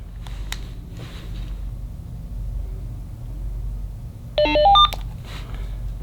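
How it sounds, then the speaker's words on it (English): A Motorola CLS series two-way radio gives a short chirping tone pattern of rising beeps as it enters programming mode, about half a second long, clear over a low background rumble. "we're going to keep these buttons held down until we hear a chirping pattern"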